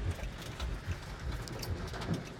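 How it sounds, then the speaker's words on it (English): Dense, irregular pelting and clattering, like hail drumming on a car roof and glass, steady and close throughout. "so it is hailing"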